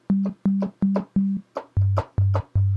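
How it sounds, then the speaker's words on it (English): Seven short, pure synth sine-wave tones play in a steady rhythm, four at one pitch then three lower, each with a soft attack and clean sustain. "That's your basic sine wave."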